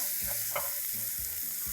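Vegetables sizzle and fry in a hot pan for a veg sizzler with chili flakes, while a spoon stirs and scrapes through them in a few regular strokes, close up and continuous, with no voices.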